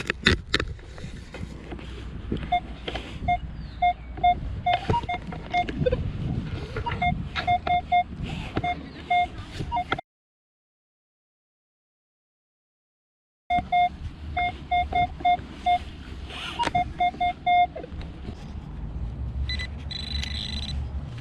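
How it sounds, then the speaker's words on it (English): A Minelab Manticore metal detector sends out repeated short electronic beeps over steady wind and outdoor rumble while hunting a park in Piedmont, Oklahoma, broken by a few seconds of silence before the tones resume. "let's go back to the metal detector"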